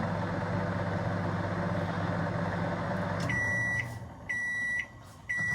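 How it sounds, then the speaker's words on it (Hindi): Microwave oven heating roti runs with a steady low hum, then gives three loud, clear electronic beeps spaced about half a second apart near the end. "तो मैं मनीष के लिए माइक्रोवेव में कर देती हूँ"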